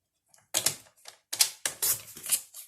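Paper being cut to size for a mini journal, several short crisp snips or trimmer strokes in quick succession, close and clear with brief pauses between them.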